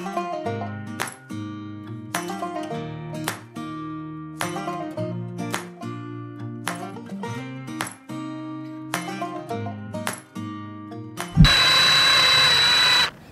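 A power drill whines in repeated bursts, each run winding up and cutting off as a sharp bit drills during a ducted heat pump install, followed by a loud hissing rush at the end.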